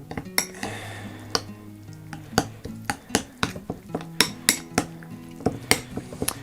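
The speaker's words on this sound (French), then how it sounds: "alors là, il faut bien s'appliquer pour mélanger, c'est important" A spoon stirs a homemade natural insecticide mixture made with cold-pressed oil, clinking and tapping against the container in a quick, uneven rhythm of close metallic knocks with no voices.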